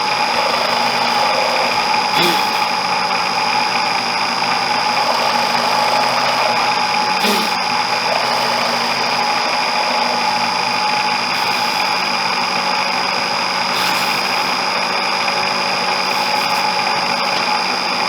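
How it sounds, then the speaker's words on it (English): A vertical mill running a 10mm Forstner bit hums steadily and loudly throughout, with a constant motor whine and a few brief knocks as the bit plunges into birch. "I'm doing this in my vertical mill"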